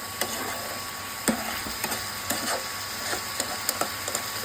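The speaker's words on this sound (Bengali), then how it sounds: "ভালো মতো কষিয়ে দিলাম" Homegrown tomatoes being sautéed in a pan give a soft, steady sizzle, punctuated by repeated sharp clicks and scrapes of a spatula stirring at an irregular rhythm, with no speech.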